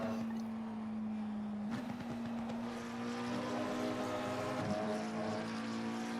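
A race car engine in the sim racing game Assetto Corsa Competizione, running an endurance race at Silverstone, drones steadily at moderate volume with a few brief pitch dips as the driver shifts.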